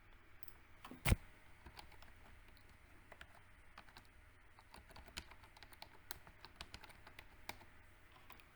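Keyboard typing while configuring a pfSense firewall rule: a steady run of light, close key clicks with one sharper louder tap near the start, no talk heard.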